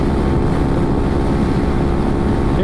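A Honda Forza 300 scooter engine held at full throttle near top speed, a steady, loud, dense drone mixed with heavy wind rush, continuous with no breaks or talk.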